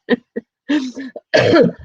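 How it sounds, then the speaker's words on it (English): A few short, sharp coughs and a throat-clearing rasp, close and loud, in quick uneven bursts with brief silences between. "I'm coughing during an interview, which is bad"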